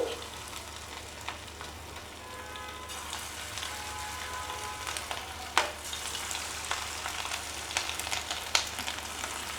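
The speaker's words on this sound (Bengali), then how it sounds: "তেলটি যখন গরম হয়ে এসেছে তখন আমি এই পাকোড়াগুলি এক এক করে ছেড়ে দিচ্ছি" Prawn pakoras fry in hot oil in a pan, a steady close hiss and bubbling crackle with occasional sharper pops and clicks, including one distinct loud snap midway, no talking.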